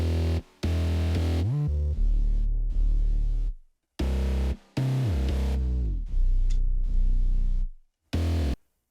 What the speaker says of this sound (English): Together, all the bass should sound like this.